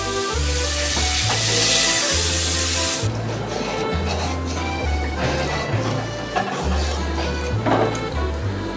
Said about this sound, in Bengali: দেখুন ঝোলটা একটু ফুটে উঠেছে